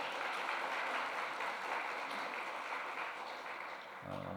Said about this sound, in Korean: 우리 박수로 하나님께 영광 올립시다.